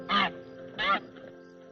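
A goose gives two loud, harsh honks about half a second apart, close and clear, followed by a short quieter stretch. The scene is a frontier-era drama.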